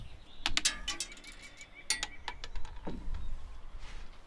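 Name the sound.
screwing a plastic poultry watering cup into a hole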